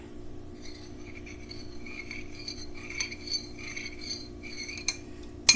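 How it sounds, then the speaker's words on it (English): A utensil stirs melted chocolate in a bowl, making soft scraping and light clinks against the sides, quiet and close with a faint steady background hum. "I need to give my chocolate a good stir."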